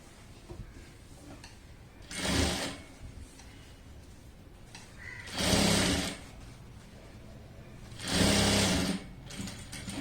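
Sewing machine stitching fabric for a puff sleeve frock, three short whirring bursts of rapid stitching separated by quiet pauses, fairly close.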